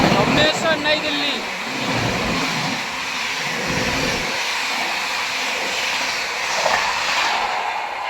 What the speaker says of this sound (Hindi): राजधानी एक्सप्रेस भुवनेश्वर नई दिल्ली।